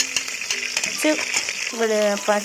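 Ginger, garlic, green chillies and onion sizzling in oil for a Kerala chicken curry, with spatula scrapes and stirring clatter up close and a voice speaking over parts of it.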